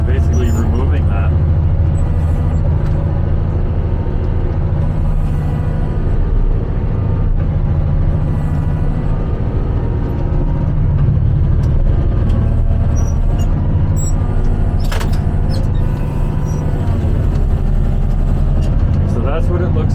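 A motor grader runs steadily at close range while placing gravel along a curb, its engine droning without pause under ongoing talk.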